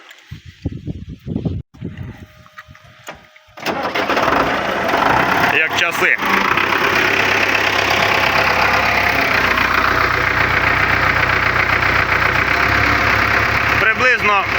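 A tractor engine runs steadily and loudly while driving out to a field to prepare ground for sowing wheat, a constant mechanical drone following a few seconds of quieter sounds at the start.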